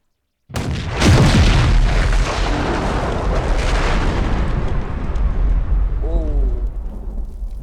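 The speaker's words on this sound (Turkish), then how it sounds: "Şu uzağa gidelim biraz görelim patlamayı" A massive fuel-air bomb explosion in Garry's Mod booms and rumbles, its roar sustained and slowly fading, followed by a brief whistling tone as the blast settles.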